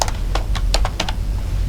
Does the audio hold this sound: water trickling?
no